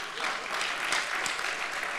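A church congregation claps steadily and fairly loudly for a couple and a preacher during a service, dense continuous applause with no pauses throughout.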